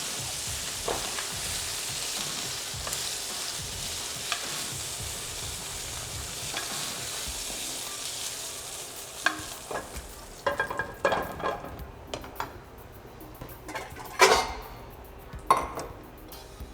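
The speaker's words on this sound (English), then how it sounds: "If you see it starting to get too brown on one side of the pan, you want to add a little oil over there so that the flour doesn't burn." Flour-coated chicken browning in oil in a pan for braised chicken in apple cider, a steady close sizzle running throughout, with utensil scrapes and pan clatter growing busier toward the end.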